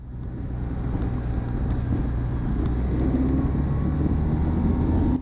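Motorcycle riding on the road during a sport-touring helmet road test, a steady engine drone and wind rush heard from the rider's position, gradually getting louder, with no talking.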